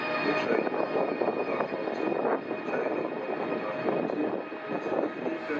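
A Eurostar train pulls out of the station for Paris, a broad rumbling roar that stays steady and fairly loud in a reverberant hall, without clear speech over it.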